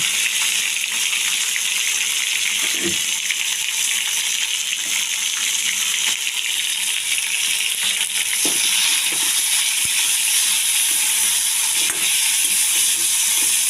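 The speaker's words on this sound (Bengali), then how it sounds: "ভালো করে ভেজে নিচ্ছি" Bitter gourd pieces seasoned with salt and turmeric fry in oil, producing a steady close hiss of sizzling with a few faint stirring scrapes and no voices.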